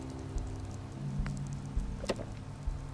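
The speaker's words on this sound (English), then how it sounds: "And it's raining." Steady hiss of rain falling in Fallout 4, a soft continuous wash with a few faint taps and knocks over it.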